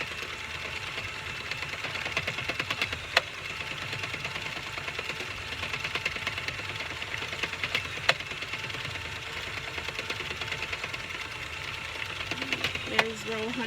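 Battery drill driving an Addi King knitting machine through a Kranki adapter, knitting a drawstring hat: a steady mechanical whir and rattle running throughout, with occasional sharp clicks and a person talking over it.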